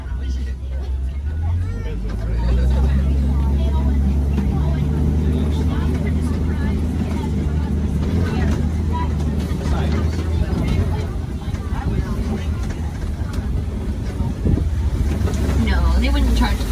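A safari truck on the Kilimanjaro Safaris ride at Disney's Animal Kingdom drives along with a steady, close, low engine drone throughout, while a person talks over it.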